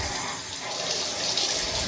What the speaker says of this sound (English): Tap on.